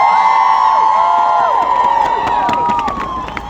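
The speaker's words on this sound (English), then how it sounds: "Give her a round of applause." A crowd at a nurses' union rally cheers and whoops loudly, many voices overlapping, with some scattered clapping underneath.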